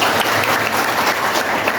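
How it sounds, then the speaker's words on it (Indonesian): A class of schoolchildren claps together in a lively morning lesson, a loud, dense and steady burst of applause filling the room. "Tepuk tangan semuanya."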